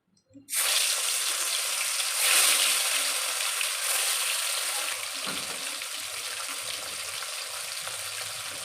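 Fish belly pieces fry in plenty of hot oil, a loud, dense sizzle that starts abruptly, swells briefly, then settles into a steady, slightly quieter crackle for several seconds.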